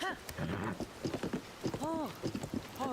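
A horse's hooves clip-clop in a steady rhythm in a video game, close and moderately loud, with a few whinny-like snorts among the steps and a faint voice now and then.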